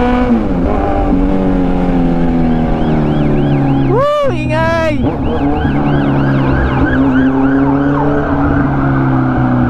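A fire truck siren wails close by in rising and falling sweeps, with a sharp burst of rapid yelps midway, all over a steady engine drone from nearby traffic.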